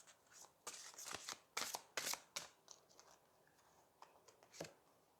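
A deck of tarot cards is shuffled up close in several riffling, flicking bursts, loudest in the middle and quieter toward the end.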